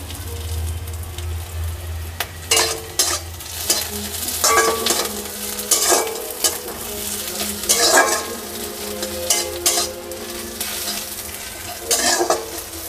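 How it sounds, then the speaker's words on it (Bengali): Chopped green chillies fry in hot oil in a pan with a continuous sizzle. A spatula stirs and scrapes them in repeated clanking strokes at close range, with no voices. "আর এর মধ্যে আমি একটু লঙ্কা কুচি রেখেছিলাম, সেটাকে একটু দিয়ে ভেজে নেব।"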